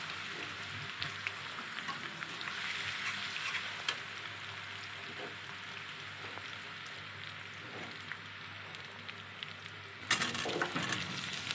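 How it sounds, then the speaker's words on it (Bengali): Chopped garlic fries in oil for homemade chilli chicken, a steady, bright sizzle running continuously with faint stirring taps and a sudden louder burst near the end. "প্রথমে দেখো এখানে আমি রসুন কুচি দিলাম।"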